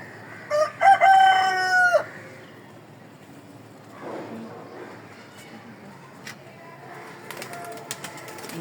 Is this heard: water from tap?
no